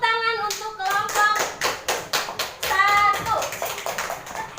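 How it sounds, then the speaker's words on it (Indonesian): Classroom children clap for a group in a ragged, bursty rhythm of sharp close slaps, while a voice speaks briefly at the start and again partway through. "Oke, tepuk tangan untuk kelompok"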